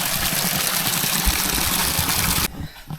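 Water trickles and splashes from a spring in the deep forest near Dhuppani waterfall, Bilaichhari, Rangamati: a steady, close, broadband rush that cuts off abruptly near the end, leaving quieter background.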